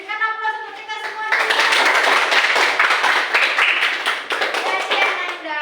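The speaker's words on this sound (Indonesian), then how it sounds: "Berikan aplaus untuk kita semua." A school class bursts into applause, with many hands clapping steadily for several seconds after a teacher's voice speaks briefly.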